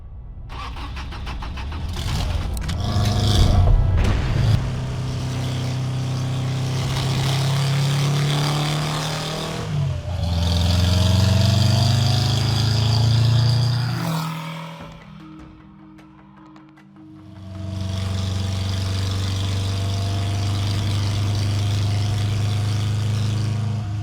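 A 1968 Porsche 912 with a 2.1 liter four-cylinder 911 engine cranks and fires, settling into a loud, throbbing idle with revs rising and falling, briefly cutting out, then restarting to a steady rumble.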